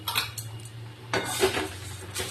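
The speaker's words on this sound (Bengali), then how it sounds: "এখানে মুড়ি আমি চাপিয়ে দিয়েছি মুড়িটা ভাজা ভাজা হবে" Puffed rice is tossed and fried in a little oil in a metal wok, giving short bursts of scraping and rattling from the spatula against the pan, close and clear with no voices.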